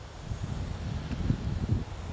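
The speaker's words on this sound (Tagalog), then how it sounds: "medyo malakas na po yung hangin" Strong wind blowing outdoors, a steady low rushing buffet that rises and falls across two seconds, with gusty swells and no voice.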